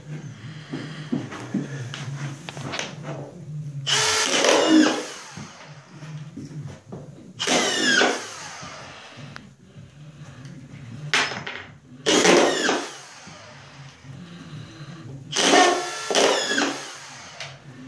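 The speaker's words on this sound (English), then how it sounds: "Sinks them every time. Drill's got plenty of power." A Makita XSF03 brushless drywall screw gun drives screws in four separate bursts, each a loud whining buzz lasting about a second, with quieter shuffling and handling noises between them.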